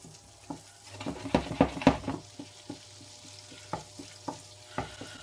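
Small potato pieces and garlic cooking in a pan, a soft low sizzle under a run of sharp stirring and scraping knocks, busiest early and then spaced out.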